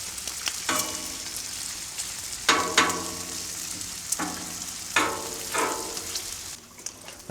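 Bacon fries on a Blackstone griddle with a steady close sizzle, broken by several sharper crackling surges and scraping stirs spaced a second or two apart.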